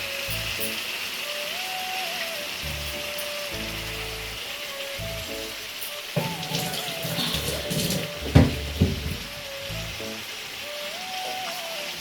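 Raw chicken hits a hot pan of chili powder for a Telangana chicken curry, setting off a steady sizzle and crackle, with music playing underneath and a few sharp clatters partway through.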